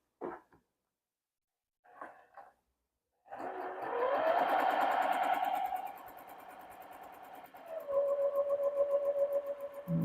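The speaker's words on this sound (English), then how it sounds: "we're coming up to back stitching. You can hear it." Sewing machine stitching a French seam on a dress made from McCall's pattern 5797, with a brief pause and then back-stitching. The close motor whirs steadily, a few faint knocks come before it starts, and no one speaks over it.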